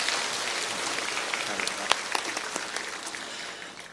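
A church congregation at a Sunday service applauds the Zion choir and central orchestra, a steady wash of many hands clapping that fades toward the end.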